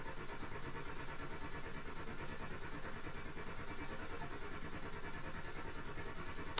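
A steam engine in the Steam Engine Simulator video game runs at 500 RPM, producing a continuous rapid mechanical chugging hum with a steady pulsing rhythm, fairly quiet and unbroken apart from a brief click at the very end.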